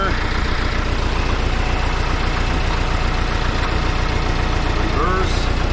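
A Case 188D diesel engine runs steadily on a tractor being brought back to life, a continuous low idling rumble with even pulsing that stays close and fairly loud throughout.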